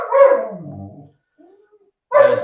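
Dogs bark nearby in a home, loud short barks in two bursts separated by a quiet gap with a faint whimper.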